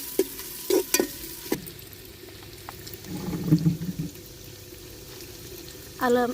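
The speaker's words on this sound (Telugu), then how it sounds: "ఇప్పుడు ఉల్లిపాయ వేస్తున్నా" Chopped onions and green chillies frying in a pan for Andhra village-style gongura country chicken, a soft sizzle under stirring scrapes and clinks at close range.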